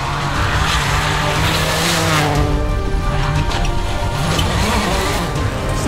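A Peugeot 206 WRC rally car races hard on a rally stage, its engine loud and close, revving and shifting with tire noise and skidding, and no voices.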